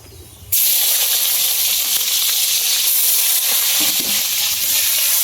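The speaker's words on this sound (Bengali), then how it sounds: "পেঁয়াজ কুচি দিতে দিলাম" Chopped onion hits hot oil and breaks into a loud, steady sizzle after a brief quiet start, a dense crackling hiss that holds without pause, with a few faint utensil knocks underneath, in a home kitchen cooking a desi chicken.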